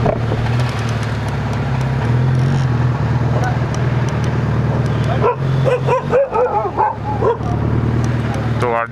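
Dogs bark and yip near an underground parking area at Gurudwara Bangla Sahib. A steady vehicle engine drone runs underneath, and the barking becomes clearer toward the end.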